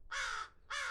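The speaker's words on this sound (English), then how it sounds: "I can hear the other crows in the background." A crow gives two loud, harsh caws in quick succession, close by and clear against a quiet background.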